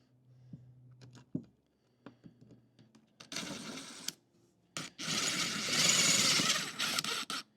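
A self-drilling screw driven into metal during an RV bench seat remodel: small clicks and taps, then two loud bursts of whirring, grinding driving, the second longer.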